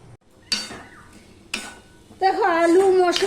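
Spice paste gets scooped from a grinder into a bowl, with a few sharp metallic clinks and scrapes of a spoon against the vessels, followed by a voice speaking near the end.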